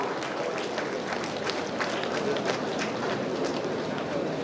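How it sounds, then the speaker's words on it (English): Steady applause from a graduation ceremony audience fills the hall, a dense, even wash of many hands clapping at moderate volume without clear pauses. "Please, applause."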